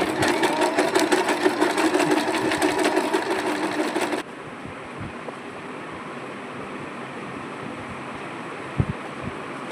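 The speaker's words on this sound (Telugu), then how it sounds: "ఈ విధంగా మనం ఫోల్డ్ చేసేసుకొని మీదకి వచ్చేటట్లు మనం స్టిచ్ చేసేసుకోవాలి." A sewing machine stitches puff sleeves for a child's dress with a steady, close mechanical whir for about four seconds, then stops and leaves faint room noise.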